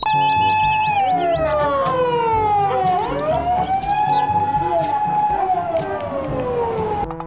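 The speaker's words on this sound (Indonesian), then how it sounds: "wow, lihat teman-teman, di sini ada mobil ambulan." A toy ambulance siren wails loudly and alone, its electronic tone sweeping down and back up in repeated slow swoops that carry on continuously.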